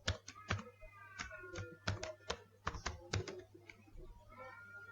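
Fingers typing a bucket name on a computer keyboard, a quick irregular run of crisp key clicks close up in a quiet room.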